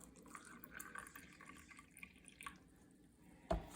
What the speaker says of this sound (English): I'm also gonna pour some water in our silicone beaker that has the vitamin and the 2 prescriptions.